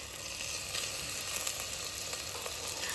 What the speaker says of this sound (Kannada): ಈಗ ಇದು ತೊಳೆದು ಕ್ಲೀನ್ ಮಾಡಿಟ್ಟಂಥ ಪ್ರಾನ್ಸ್ ಹಾಕ್ತಾ ಇದ್ದೀನಿ.